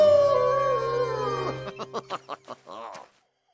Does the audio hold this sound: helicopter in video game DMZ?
no